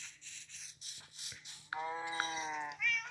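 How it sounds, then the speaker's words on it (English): Several cat meows from Minecraft, a run of short tonal calls followed by a longer, louder harmonic meow and a final rising one, fairly close and clear with no talking. "There's still a cat in the window."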